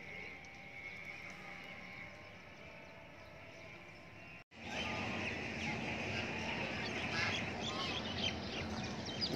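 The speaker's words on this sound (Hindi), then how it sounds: "आप देख सकते हैं यहाँ में बत्तख नज़र आ रही हैं" Ducks quack quietly at Peshawar Zoo over faint outdoor ambience, with a brief drop partway through before the calls and background noise continue.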